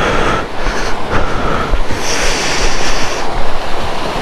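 A small waterfall in Karbi Anglong rushes steadily, its broad, constant hiss loud and close throughout with no voices.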